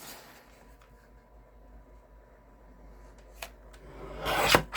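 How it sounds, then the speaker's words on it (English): Scissors or a trimmer cut paper on the diagonal during card-making, heard as a quiet, soft rubbing scrape with a few faint clicks, ending in a louder, sharper rasp. "Then I'm going to cut on the diagonal here."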